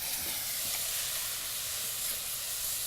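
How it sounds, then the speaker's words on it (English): Alcohol sizzles and hisses steadily as it deglazes a very hot pan, a continuous close frying hiss with no speech. "Anytime you do something with alcohol over a really hot pan, you got to be careful it doesn't flare up on you."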